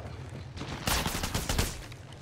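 Gunfire in Apex Legends Mobile rattles in quick bursts of overlapping shots, a dense volley that swells mid-clip over steady background game noise.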